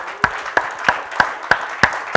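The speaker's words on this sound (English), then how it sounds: "Give the Lord another hand clap." A church congregation claps in unison, loud sharp beats in a steady rhythm about three per second, with a faint crowd clatter between the beats.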